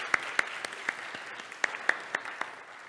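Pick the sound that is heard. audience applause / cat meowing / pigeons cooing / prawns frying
audience applause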